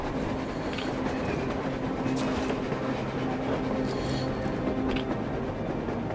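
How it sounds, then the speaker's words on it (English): A train running on the surface in the video game Metro Exodus, heard as a steady, dense rumble with a faint rhythmic clatter that stays loud and continuous throughout, with no talk over it. "A train! A damn train on the surface!"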